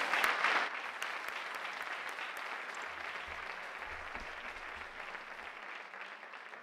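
Applause from a crowd at a procession band gathering, dense clapping that starts strongest and slowly thins over several seconds.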